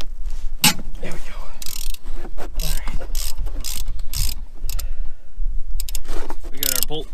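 A hand ratchet clicks rapidly in short bursts while backing out a brake slide bracket bolt on a Mazda 6, close and sharp, with brief pauses between the runs of clicks.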